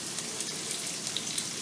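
Chopped cabbage frying with ginger and garlic in a pan, a soft steady sizzle with faint crackling pops, low and even throughout with no talking.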